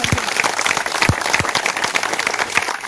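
Audience applause at an Independence Day celebration, brisk continuous clapping from a gathered crowd, close and lively, with some heavier individual claps punctuating the steady patter.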